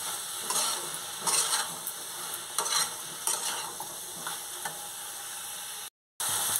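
Eggplant pieces fry in hot oil with spices while being stirred, giving a steady sizzle broken by repeated scraping strokes of a spoon against the pan, close and moderately loud, before a brief drop to silence near the end.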